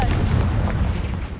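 A Confringo fire spell blast in Hogwarts Legacy booms out as a heavy, rumbling explosion that rolls on for the full moment, loud and close.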